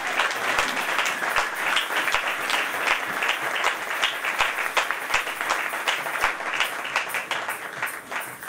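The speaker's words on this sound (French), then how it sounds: "Est-ce que nous pouvons les accueillir sous vos acclamations?" A church congregation at a worship service applauds to welcome a pastor, sustained dense clapping from a large crowd lasting the whole stretch, fairly close and even in loudness.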